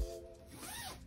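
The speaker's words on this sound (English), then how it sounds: "zip it up, kind of" A zipper is pulled closed on an adjustable pillow cover, one quick close rasping zip after a soft thump.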